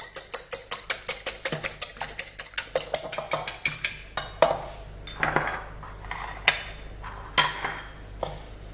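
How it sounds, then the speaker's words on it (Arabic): Cracked eggs being whisked with milk in a bowl: a quick, steady run of sharp utensil taps against the dish that slows into scattered, louder clinks and scrapes, close and alone. "كسروا البيض ونخلطوه مع مقدار الحليب."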